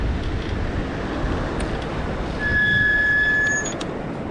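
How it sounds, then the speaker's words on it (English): An e-bike's front brake squeals in a high thin tonal whine lasting about a second over steady rolling wind and road noise. "You guys caught me using the front brake a little bit."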